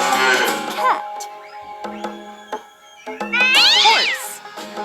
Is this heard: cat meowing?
yes